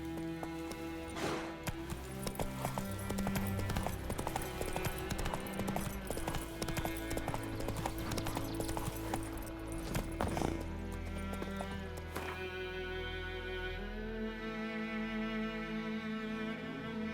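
Horse hooves gallop steadily across open ground in The Witcher 3, a fast rhythmic clip-clop under game music that fades toward the end as the horse slows.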